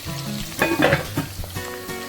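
Turkey pieces deep-frying in hot oil for a Ghanaian waakye spread, a steady close sizzle with bubbling crackle and a few brief stirring clatters, no voices.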